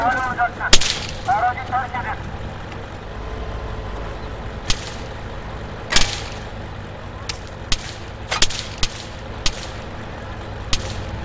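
Gunshots from the video game Arma 3, fired in a few spaced single cracks and short bursts over steady background rumble, with a brief stretch of faint voice near the start.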